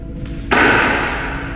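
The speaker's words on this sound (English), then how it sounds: "I'm actually hearing something banging on the door." A door at night takes a sudden loud bang, a single hard thud with a ringing decay, set against a steady low background hum, with no talking.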